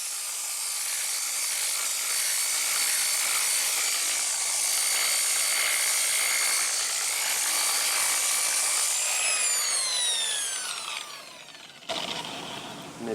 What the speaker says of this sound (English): Let me go on and get back to sanding this on down.